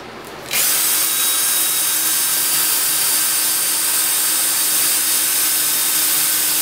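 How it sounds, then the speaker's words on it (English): A power sander starts up and runs at a steady, loud whine with a gritty rasp against a dyed wooden bowl, continuing without pause. "So I'll sand it until it's all one color."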